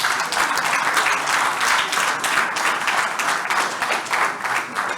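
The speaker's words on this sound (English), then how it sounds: "let us clap for them." A conference audience claps continuously at closing remarks, a dense, even patter of many hands with no break throughout.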